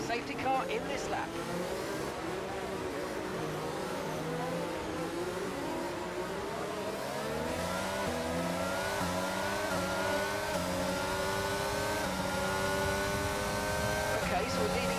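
Several racing cars in the F1 22 video game accelerate hard after a safety car restart, their engines rising in pitch together through the gears, loud and sustained, with a voice talking over them.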